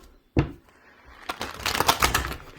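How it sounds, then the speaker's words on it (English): A deck of tarot cards handled up close: one sharp slap or tap, a brief pause, then a dense burst of riffling and flicking as the cards are shuffled and drawn, with no talk. "I'm just going to pull a couple of tarot cards just as confirmations."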